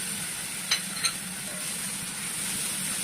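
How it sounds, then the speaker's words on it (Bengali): Tomato, onion and garlic paste fries in oil with spices, giving a steady close hiss broken by two quick light taps of a utensil early on, with no voices. "একটুখানি নেড়ে দিয়ে দেবো বাটা টমেটো আর পেঁয়াজ রসুন।"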